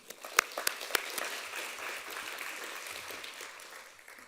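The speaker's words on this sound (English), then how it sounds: "you need to give yourselves a hand of applause" Audience applause at an arts conference, opening with a few sharp claps, then settling into a soft, steady patter that slowly fades.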